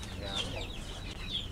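Pet chickens clucking nearby, including a Lemon Sweater and White Kelso rooster, with a few short overlapping clucks over steady background noise and a faint voice.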